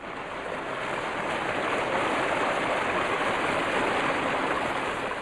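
A steady, loud rush of water cascading down a water ride fills the whole stretch, a broad continuous roar with no pauses and no voices.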